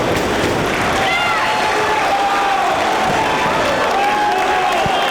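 A wrestling crowd at a live match in Dorchester roars continuously with cheering and applause, loud and sustained throughout, with a commentator's voice faintly audible under the din.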